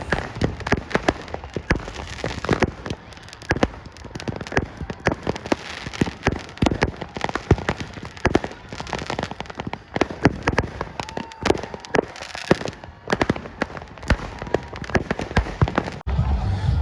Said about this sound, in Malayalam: അപ്പോൾ ഫയർ വർക്ക്സ് ഇപ്പോഴും കണ്ടിന്യൂ ചെയ്യുന്നുണ്ട് കേട്ടോ.